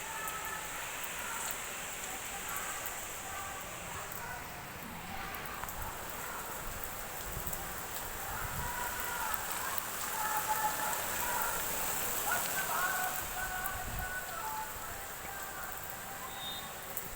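Steady rain falling in Ahmedabad, a continuous even hiss of drops on surfaces with faint rustling, unbroken throughout and moderately loud, with no other clear sounds over it.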